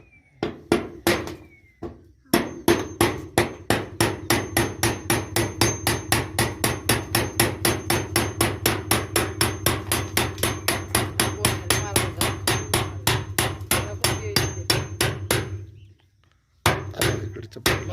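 Rapid, steady metal hammering of a chisel cutting through metal sheet, dozens of sharp ringing blows in an even rhythm, close and loud, with a brief pause at the start and end.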